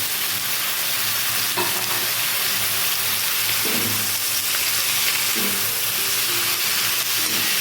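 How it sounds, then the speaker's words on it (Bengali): Bathua greens fry in a pan with a loud, steady, close hiss of sizzling moisture, broken by occasional stirring scrapes; no talking. "শাকগুলো ভালো করে ভাজতে থাকবে যতক্ষণ না জল বেরাচ্ছে ততক্ষণ আমি শাকগুলো ভাজবো"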